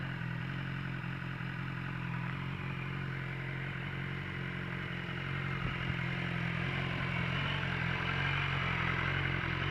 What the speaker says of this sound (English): just sitting there idling,